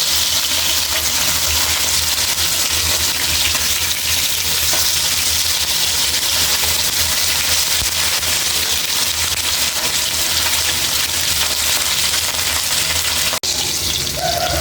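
Pieces of rui fish frying in oil in a pan, a loud, dense, continuous sizzle running without a break, with one brief knock near the end.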